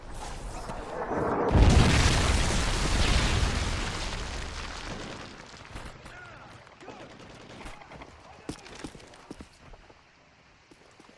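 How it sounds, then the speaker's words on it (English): A Predator missile strike in Modern Warfare 3 lands as a loud, deep explosion with a rolling blast that decays over several seconds, followed by scattered distant gunfire cracks and battlefield noise. "Friendly Predator missile inbound."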